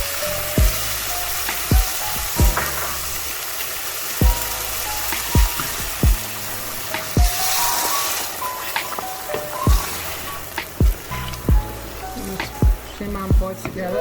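A pot of coconut milk, stock and shrimp boils steadily, with a continuous bubbling hiss and scattered louder pops and plops throughout.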